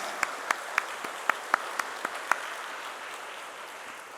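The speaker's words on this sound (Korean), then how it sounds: "우리 격려의 박수 한번 하도록 하겠습니다" Scattered handclaps from a church congregation at Namdaemun Church in Seoul: about nine separate sharp claps at uneven intervals over the first two and a half seconds, moderately close, then only quiet room tone.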